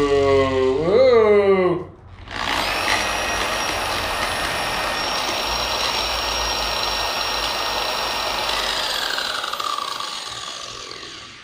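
A Griot's Garage BOSS G21 polisher switches on after a short burst of voice, then runs with a steady loud whine and a slightly chattery gearbox, holding its pitch for about nine seconds before easing slightly.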